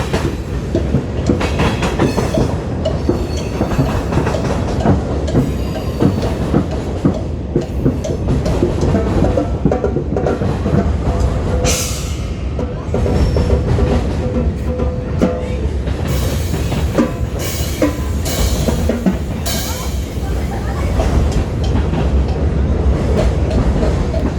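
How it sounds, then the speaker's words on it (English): A train rumbles past close by, with rhythmic clickety-clack of wheels over rail joints and occasional metallic screeches, loud and continuous. "There's a train."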